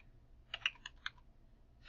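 A few quiet, close keystrokes on a computer keyboard, a quick cluster of clicks followed by a single tap, with no speech.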